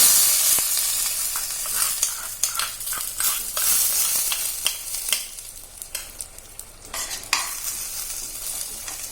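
Hot oil tempering sizzles and crackles as a spoon stirs and scrapes against a pan, then is poured into a dish, with irregular clinks and bursts of hissing.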